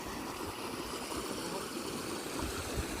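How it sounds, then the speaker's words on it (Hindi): Mountain stream water in a forest in the hilly area of Raigarh district flows steadily and continuously, a dense even rush with no pauses and no voices. "ये जंगल का पानी, पहाड़ों का पानी इधर से आ रहा है"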